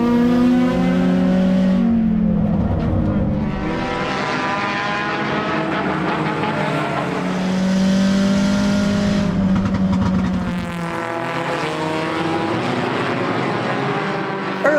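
Enduro race cars roaring past on an oval track near the start-finish line, loud engine drones rising and falling as cars pass close, several overlapping passes.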